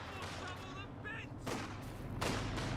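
Artillery flare barrage in the strategy game Company of Heroes 2, a few heavy bursts of gunfire and explosive blasts landing over a continuous battle din, growing louder toward the end, with a voice speaking through it.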